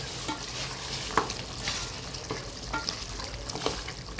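Mutton for biryani cooks in a pot, a soft, continuous bubbling sizzle broken by intermittent stirring scrapes and light knocks, moderately close and with no one talking.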